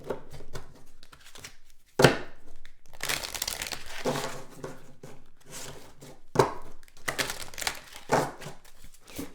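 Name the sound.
shuffling tarot cards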